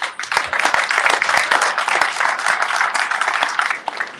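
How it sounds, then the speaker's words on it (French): A live audience at a Station F startup pitch event claps warmly for the partners, a dense, close, continuous round of applause with sharp individual hand claps standing out and holding strong throughout. "Et je pense d'abord aux partenaires, que je vous demande chaleureusement d'applaudir"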